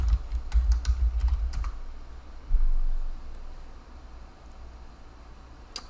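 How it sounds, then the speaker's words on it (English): Keys on a computer keyboard clatter in a quick burst of taps while a search keyword is typed, then stop, leaving low room hum with a faint thump and a lone click near the end. "Let's type in empath."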